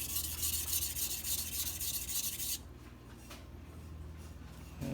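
A carbon steel Santoku knife is rubbed against a sharpening surface in rapid rasping strokes for about two and a half seconds, then stops, leaving quieter scraping and handling sounds close by.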